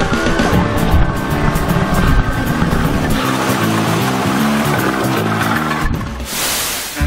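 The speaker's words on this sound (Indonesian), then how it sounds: "sekarang giliran kita cobain main jet ski" A jet ski roars over big ocean waves, its engine loud and continuous with shifting pitch as it surges and slaps across the water, close up and with no speech.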